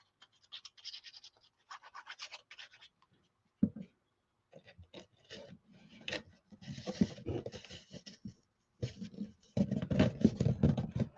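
Fingers pressing and rubbing trim down along a raw edge on a handmade storage piece, a series of soft scratchy rubs in uneven bursts with pauses, close and quiet, no voices.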